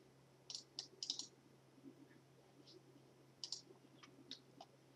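Sharp mouse clicks on a computer at a work order terminal, a quick burst of several clicks followed by a few more scattered ones, fairly faint over a steady background hum.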